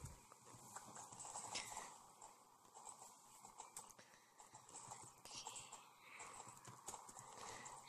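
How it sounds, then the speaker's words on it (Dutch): A wild horse's hooves clip-clop in a video game, a quiet, steady patter of hoofbeats that continues for the whole stretch. "En het wilde paard gaat weer verder."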